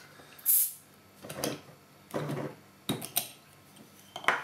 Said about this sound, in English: Eric, I'm going to be trying your bottle opener for the first time